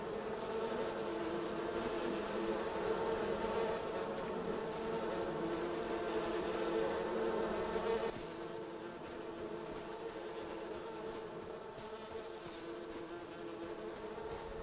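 Steady, continuous buzzing of a swarm of bees in the farming video game Farming Simulator 25, a dense drone that holds evenly throughout and drops slightly in level partway, with no voices.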